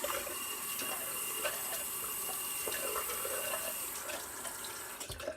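Tap water runs steadily in a sink for rinsing, a continuous broadband hiss and splash at close range with no speech over it.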